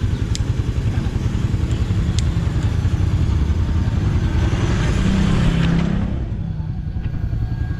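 A motorcycle engine runs steadily nearby, giving a continuous low rumble that holds through the whole stretch with only slight swells in level.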